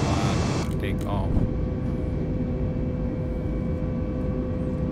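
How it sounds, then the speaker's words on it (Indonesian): Airliner taking off in Microsoft Flight Simulator 2020, a loud continuous engine roar with steady broadband rumble and faint tonal whine, holding level throughout with a brief change in the first second. "Kita aktifkan kontrol aircraft-nya menggunakan Artificial Intelligence dan langsung saja pesawat take off."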